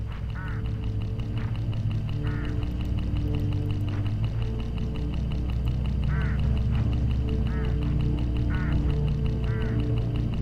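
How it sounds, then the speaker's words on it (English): Hooded crows along a road in the video game Hitchhiker give harsh, rasping caws in short repeated bursts, spread irregularly over a continuous low rumble. "Look, hooded crows all along this road."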